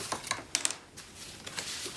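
Soft papery rustles and light handling noises of shuffling craft papers come in short bursts, close and quiet, with brief pauses between them.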